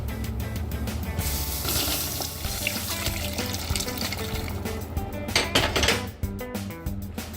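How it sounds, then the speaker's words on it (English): Squirrel broth pours into a pot for a meat pie gravy, a steady liquid splash with clinks of pots and utensils close by. "Then we're going to add some of that squirrel broth."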